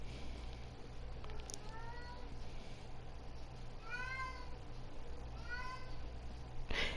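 A pet cat named Moxie meows several times, faint and somewhat distant, over a steady low electrical hum with no talking.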